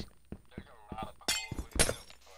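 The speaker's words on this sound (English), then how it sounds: "Wow, you just lost two pieces of glass" Glass blocks break in Minecraft with a quick series of sharp shattering clicks and thunks, two brighter crashes standing out, while people talk over them.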